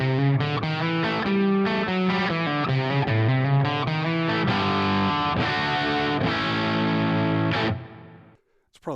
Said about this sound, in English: let's go with the London plate.